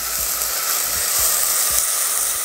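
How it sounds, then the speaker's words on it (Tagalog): Garlic and onion sauté in hot oil in a home kitchen pan, giving a steady, even sizzling hiss with a few soft low knocks under it and no talk. "Igigisa ko lang ito hanggang sulumambot yung sibuyas."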